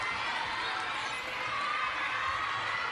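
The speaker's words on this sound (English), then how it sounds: "as the crowd works itself up into a frenzy" A table tennis arena crowd roars in a sustained, dense wash of cheering and shouting, loud and unbroken throughout.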